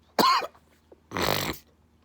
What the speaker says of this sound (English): see, now I'm coughing.